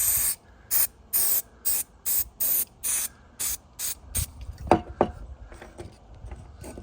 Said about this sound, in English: See what this is gonna take a little bit of carb cleaner here.